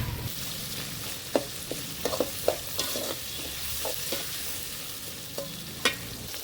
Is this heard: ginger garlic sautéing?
yes